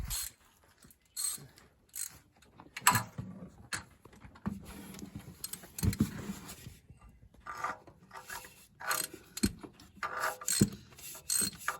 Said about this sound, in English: I'm taking the spark plug out of the number 2 cylinder.